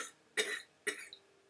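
Two sharp coughs from a woman with a raspy voice who is getting over a virus, close and clear against near silence, with a faint throat noise trailing after.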